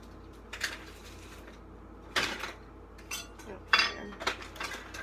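Soaking herbs are stirred in a container with a bamboo kebab skewer, giving a few scattered light clinks and scrapes against the sides, close and fairly quiet.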